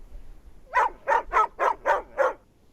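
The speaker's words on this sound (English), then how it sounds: "dog" A dog barks six times in a quick, evenly spaced series, each bark short and moderately loud, heard alone against a quiet background.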